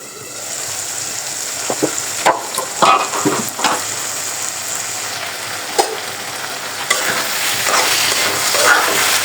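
A fish curry with bean seeds, potato and tomato frying in a pan gives a moderate sizzle, with scattered clinks and scrapes of a utensil stirring and a lid being handled.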